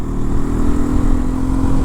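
A Hero XPulse 210 motorcycle ridden along, its engine giving a steady, close, loud drone with a rough low rumble that holds even throughout, with no voices.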